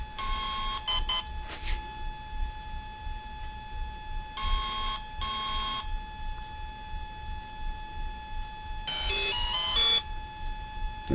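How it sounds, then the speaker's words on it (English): Electronic beep sequences from a Volcano 30A brushless ESC on a 450 RC helicopter sound in several separate bursts of rapid tones over a steady high electronic whine, with pauses between the groups. "So I'm going to wait for a single long beep"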